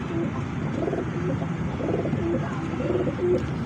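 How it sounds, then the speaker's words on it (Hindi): Pigeons at a pigeon market in Lahore coo repeatedly in soft, throaty rolling bursts, close and fairly quiet over a low background murmur. "ये लाल परी मादी आ गई"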